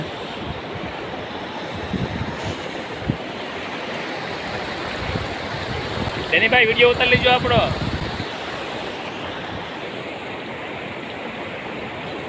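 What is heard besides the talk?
flooded Shetrunji river rushing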